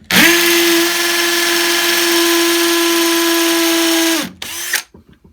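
A hammer drill with a 6mm masonry drill bit whines at a steady high pitch for about four seconds while drilling into a wall for a stair handrail, then stops, restarts briefly and halts; no talking.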